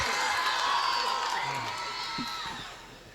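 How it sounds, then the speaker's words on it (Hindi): A crowd at a Hindi-Urdu poetry mushaira cheers and shouts loudly, the noisy burst tapering off over a few seconds. "अभी ताली बजाओ जोर से"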